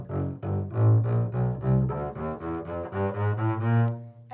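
A double bass plays a slow fingering exercise, open string then first, second and fourth fingers across each string, as a steady series of evenly spaced, resonant plucked or bowed low notes, close and alone.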